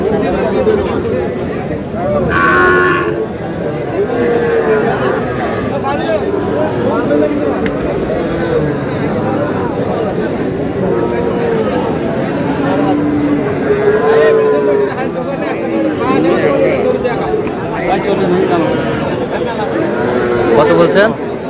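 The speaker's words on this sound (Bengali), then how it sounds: "ষাঁড় বাচ্চা।" A Gir bull calf at a busy cattle market in Cumilla moos several times, close by, over constant crowd chatter and nearby people talking.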